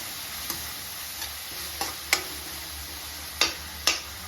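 Moringa leaves fry in a pan for chutney with a soft, steady sizzle, broken by several sharp ticks and scrapes of stirring spaced irregularly across the moment, with no talking.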